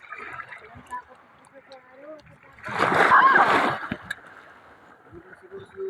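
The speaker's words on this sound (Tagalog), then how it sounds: "Nasalpok na tayo ng alon," A sea wave breaks and splashes over people wading in shallow water while searching for fish, a loud rushing burst lasting about a second amid nearby talk.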